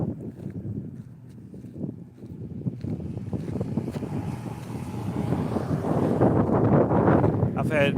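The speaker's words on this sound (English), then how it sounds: "As I'm walking, the wind is blowing." Wind gusting outdoors during a walk, a steady rumbling blow against the microphone that swells louder toward the end, with a voice speaking over it.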